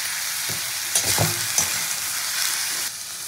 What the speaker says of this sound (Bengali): তো মাশরুমটা ভাজতে ভাজতে এর মধ্যে একটু হলুদ দিয়ে দেবো হালকা করে।